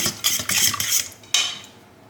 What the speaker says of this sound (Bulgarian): Разбърквам отново.